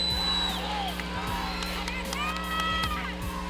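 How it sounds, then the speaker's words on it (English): A crowd at a Box Texas boxing match cheers and whoops, swelling in bursts above the arena din, while a ring announcer's amplified voice and other scattered voices carry over it. "And the crowd comes alive with Rocky."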